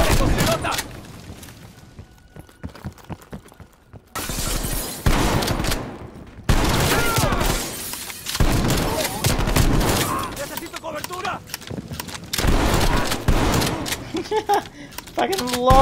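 Rapid gunfire bursts with incendiary rounds in Call of Duty Black Ops Cold War, dense crackling volleys broken by short pauses, loud and close, with a voice shouting over the shooting.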